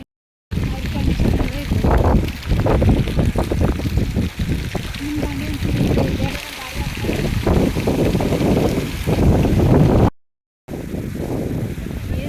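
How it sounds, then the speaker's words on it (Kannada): Strong wind buffets the microphone with a constant rumbling roar on the bank of the Kaveri river, briefly cutting out near the end, while voices talk in the background. "ಸಿಕ್ಕಾಪಟ್ಟೆ ಗಾಳಿ"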